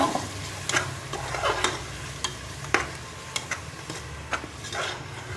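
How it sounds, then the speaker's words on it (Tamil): Ground coriander-mint paste sautéing with mutton biryani in a pressure cooker gives a continuous close sizzle, broken by sharp, regular scrapes and taps of a spoon against the pot, with no voices. "இப்போ அதையும் இந்த பிரியாணி கூட சேர்த்துடலாம். சேர்த்துட்டு நல்லா வணக்கிடலாம்."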